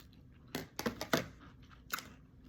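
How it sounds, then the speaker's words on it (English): A person chewing food close up, a few crunchy bites in quick succession followed by one more after a short pause, faint and without talking. "for chewing and talking"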